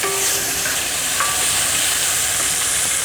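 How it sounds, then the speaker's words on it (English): A yellow onion fries in heated Goya extra virgin olive oil in a pan, a loud, steady, close hiss of sizzling with faint stirring, and no one speaking. "Add to the heated oil a yellow onion"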